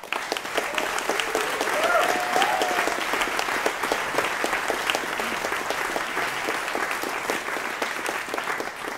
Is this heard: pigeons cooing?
no